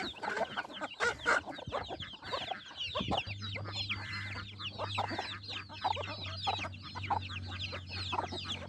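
Hens cluck busily while pecking at feed outside a basket in a farmyard, a dense overlapping chorus of short clucks and calls with a steady low hum underneath from midway on.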